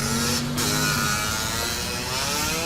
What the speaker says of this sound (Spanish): Aquí viene mi hermano Luis en su moto roja.